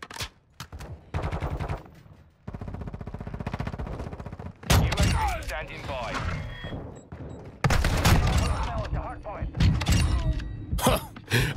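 Bryson 890 shotgun blasts in Modern Warfare 2 multiplayer: a run of loud, booming shots at irregular intervals mixed with other in-game gunfire and impacts, while a voice talks over the action.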